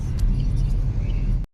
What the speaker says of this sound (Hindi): तो ये पुणे की ट्रैफिक है।